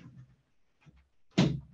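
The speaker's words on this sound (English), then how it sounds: "just give me one moment to close my door" A door is pushed shut in a home office, a single soft thud near the end after a few faint rustles and shuffles in a quiet room.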